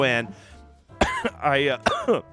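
A man coughs several times in short, harsh bursts, clearing his throat in a quiet room after a few spoken words.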